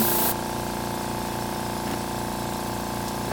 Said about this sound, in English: At this point, we can turn the machine on.